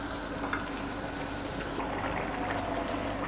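Water is poured from a glass into a pan of beef kofta curry, making a steady, continuous splashing and trickling stream that carries on for the whole stretch, close and moderately loud, with no talking.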